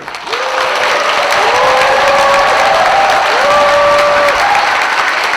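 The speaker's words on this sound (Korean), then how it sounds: "유정복 시장님을 다시 한번 뜨거운 박수로 환영해 주십시오" Loud, sustained audience applause fills a hall welcoming Mayor Yoo Jeong-bok on his New Year visit to Seo-gu, steady clapping with a few voices rising over it throughout.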